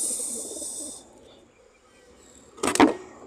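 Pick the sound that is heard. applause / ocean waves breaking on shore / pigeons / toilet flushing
pigeons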